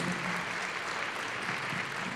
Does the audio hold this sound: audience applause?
yes